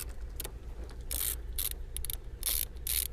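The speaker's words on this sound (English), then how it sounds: "the way we're going to disconnect the battery is we're going to take our size 10 socket and we're just going to loosen this nut." A size 10 socket ratchet loosens the nut on a car battery terminal, giving several short bursts of metallic ratchet clicking separated by brief pauses, close and fairly loud over faint background hum.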